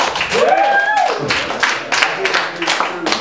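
Crowd clapping at a Michael Jackson tribute event, a broad burst of hand claps that swells after a whistling tone at the start and continues steadily, with voices mixed in.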